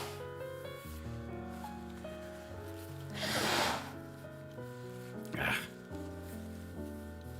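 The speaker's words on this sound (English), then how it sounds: "you're about to listen to me blow my nose anyway" A person blows their nose twice, producing two short, loud, breathy bursts, the first longer than the second, over steady background music.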